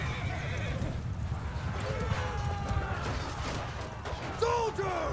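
A horse whinnies sharply amid a medieval battle in Mount & Blade II Bannerlord, the neigh rising near the end over hoofbeats and a busy clash of combat noise.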